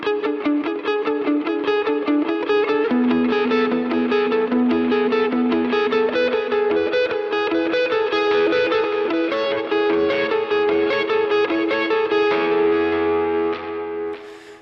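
Palm-muted, arpeggiated electric guitar lick in a Stranger Things style, played through a shimmer reverb, with a steady pulsing run of notes that moves with the chord changes and rings out in a bright wash before fading at the end; no talking.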